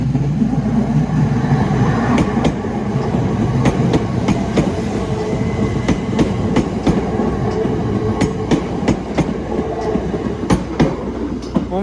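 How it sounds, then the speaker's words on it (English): A Southern passenger train rumbles steadily past St Denys level crossing, heard close and loud throughout, with repeated sharp wheel clicks over rail joints. "Another train. It's a southern one."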